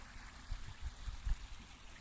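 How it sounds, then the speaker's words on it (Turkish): The İğne stream in a snowy winter valley flows quietly nearby, a faint steady watery hiss with soft low gurgles bubbling up every few moments. "Size dereyi göstereyim. İğne deresi burası."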